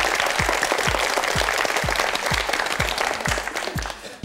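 A studio audience at a Korean television word quiz show applauds, a full, even roar of clapping held throughout, with a regular low thumping beat running underneath.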